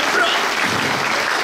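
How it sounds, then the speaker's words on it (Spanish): Strong applause from an audience at a live comedy show, a dense, even wash of many hands clapping at once, loud and sustained with no voices over it. "regalémosle un fuerte aplauso"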